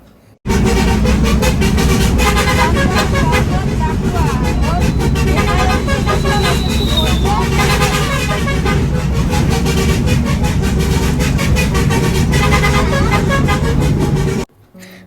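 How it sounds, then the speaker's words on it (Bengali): A bus on the road sounding its horn over and over in rapid, insistent bursts, loud and close above engine rumble and traffic noise, for nearly the whole stretch before cutting off abruptly. "পুরোটা রাস্তা বাসটা এভাবে হর্ন দিতে দিতে যাচ্ছিল।"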